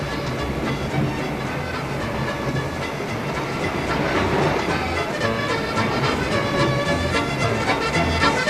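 Onboard a local express train running from Bedford to St Pancras, a steady loud rolling rumble with rhythmic clickety-clack of wheels over rail joints and faint hiss throughout, no voices.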